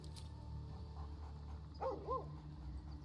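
Dog in the video game Baldur's Gate 3 gives a few soft whimpering yips over a steady background hum, faint and brief with no talk.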